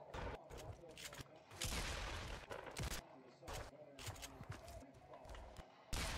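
Gunfire in the video game Fortnite, rapid repeated shots and bursts throughout, loud and close, with players talking over the action.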